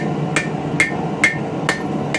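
A hammer strikes hot steel to bend the tapered end of a forged crowbar, five evenly spaced ringing blows over a steady background hum, close and clear.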